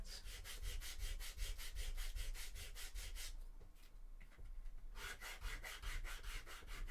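Rapid, rhythmic back-and-forth rasping as a foam cosplay armour block is sanded by hand, about three strokes per second, close and clear, with a brief pause before the sanding resumes.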